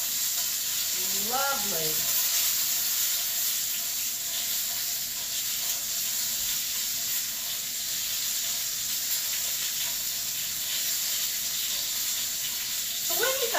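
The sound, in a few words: boneless chicken thighs sizzling while frying in pan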